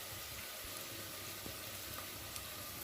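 Shrimp fry in a clay pot with a steady, faint sizzle and soft crackle throughout, no voices.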